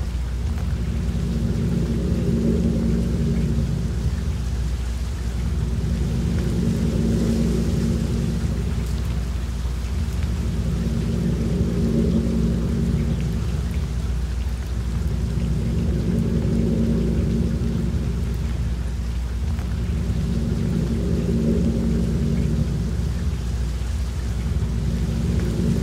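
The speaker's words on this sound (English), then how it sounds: "Rain and wind falling around you." Steady rain and wind with rolling thunder wash through an open field, a constant loud hiss with low rumbles that swell and ease roughly every five seconds under a droning steady tone.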